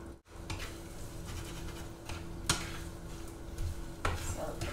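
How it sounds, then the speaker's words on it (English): Torn tortilla pieces cook into eggs in a pan, with steady sizzling and stirring plus a few scrapes and light clinks of utensil against the pan. "I'm just ripping them up. So that was to just rip them up and let them cook into the eggs."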